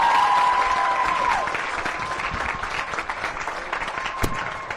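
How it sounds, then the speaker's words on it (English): An audience at a mosque poetry night gives a final round of applause for the poets, sustained clapping that starts strong and gradually thins, with a voice heard briefly at the start. "can we get one last round of applause for all the poets that came out tonight?"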